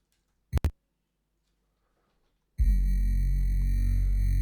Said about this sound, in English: Also you'll have these sub pads.